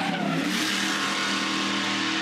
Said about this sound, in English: You can hear that axle tramp on the run into turn 9.